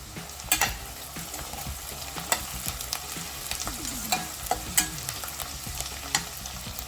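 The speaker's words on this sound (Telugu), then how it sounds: "ఉల్లిపాయలు వేడుతున్నాయండి ఇప్పుడు పచ్చిమిర్చి వేసుకోవాలి" Onions and green chillies fry and sizzle in hot oil for mutton keema, a steady crackling hiss broken by frequent scraping stirs of the pan, close and fairly quiet throughout with no talk.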